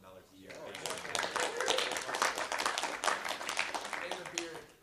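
A round of clapping breaks out at a committee meeting, with scattered sharp claps swelling and then easing over a few seconds as people talk underneath.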